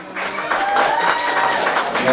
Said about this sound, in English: Let me get claps on the west side.